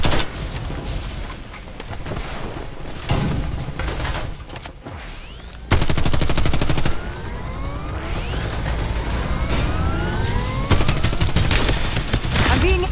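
Dense bursts of automatic gunfire fill a Farlight 84 battle, loud and close, with rapid rattling volleys, sharp pauses and sweeping streaks between shots, continuing almost without break.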